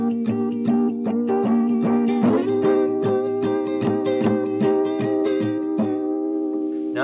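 Bass played through a Chroma Console phaser with cassette-style effect, a steady run of plucked notes with sweeping, wobbling tone, loud and alone throughout.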